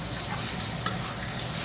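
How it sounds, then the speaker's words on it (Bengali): Potatoes dry-frying with cumin seeds, garlic and a dried red chili, a steady soft sizzle and crackle from the pan with one brief sharper pop midway. "এটা শুকনো শুকনো করে ভাজা করছি"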